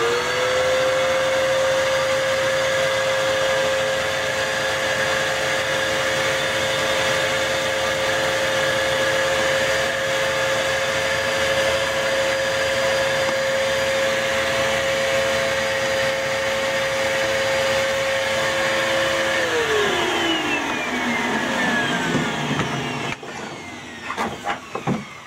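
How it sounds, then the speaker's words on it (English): A vacuum cleaner sucks up drilling debris while a safe is being anchored: a loud, steady motor whine holds for about twenty seconds, then winds down and stops near the end. "You want to make sure you vacuum out this debris too, so it doesn't block up your hole"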